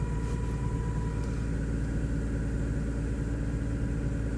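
A car engine idles steadily during standalone ECU tuning, running slightly rich with a low, even rumble that holds constant and close with no talking over it.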